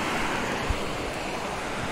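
Water runs steadily from small streams and little waterfalls along a hillside trek near Neral, a constant broad rushing wash with no voices.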